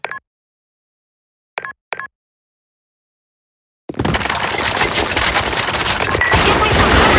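Video game gunfire during a sandstorm mission: after three brief clicks and silence, a loud, dense burst of continuous automatic fire with crackling shots runs unbroken for several seconds.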